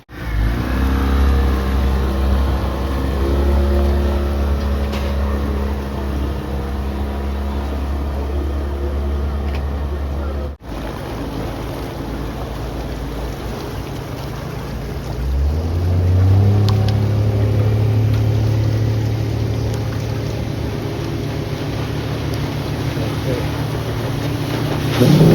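Boat engines drone steadily on the backwater at Thanneermukkom, where speedboats and houseboats ply; a loud continuous rumble with a rising motor pitch partway through as a craft passes near.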